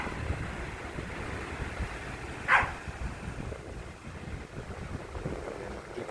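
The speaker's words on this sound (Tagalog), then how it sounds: "Tabing-tabi lang talaga guys sa dagat." Sea waves wash steadily on the shore at Borongan, Eastern Samar, a continuous rushing surf with wind noise and one brief louder splash.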